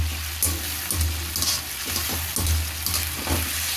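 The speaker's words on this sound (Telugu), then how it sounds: "ఇలా స్టవ్ పైన ఆయిల్ పెట్టుకుని ఇందులో ఈ రొయ్యలు వేసుకున్నాను." Prawns frying in oil in a pan on a stove, a steady close sizzle and crackle with soft periodic stirring scrapes, no voices.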